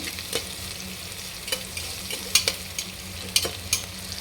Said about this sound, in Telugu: చూడండి, ఆనియన్స్ బాగా మగ్గనివ్వాలి. బిర్యానీ మసాలా ఆనియన్స్ బాగా మగ్గాలి.